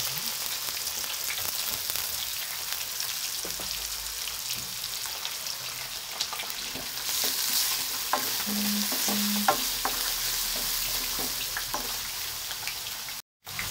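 Garlic and onion sauté in a hot pan with a steady close sizzle and frying hiss throughout, broken by occasional scraping stirs and light taps of a utensil.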